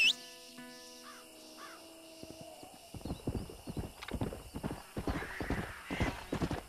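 Horse in the Red Dead Redemption video game whinnies near the start, then its hooves clip-clop in a steady, fairly close rhythm, with crows cawing faintly in the background.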